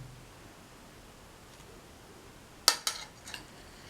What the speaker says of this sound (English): Put in the green apple into the bowl